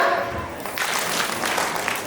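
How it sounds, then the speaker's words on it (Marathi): A group of children claps at a preschool and coaching-class gathering, producing a brief burst of hand claps that then settles into a steady spatter at moderate loudness. "हाताच्या शिवरती टाळी वाजवा."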